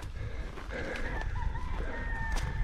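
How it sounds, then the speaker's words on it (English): Roosters crow from a distance on a forest ridge, two or three drawn-out calls rising over steady outdoor background noise. "you can hear the roosters."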